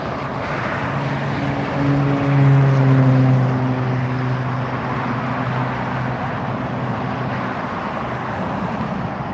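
An Austrian Airlines Boeing 777-200ER jet at LAX gives a steady, loud engine roar that swells briefly, with tonal whine layered over broad rumble and no speech.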